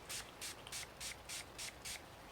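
A small spray bottle of vanilla-scented hand sanitizer is pumped seven times in a steady, even rhythm, each spray a short, close, airy hiss with brief pauses between.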